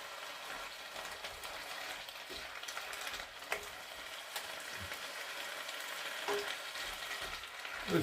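Chopped spinach wilting in a pan for a wasabi ginger stir fry gives a faint, steady sizzle and crackle, with occasional clicks of stirring and no talking.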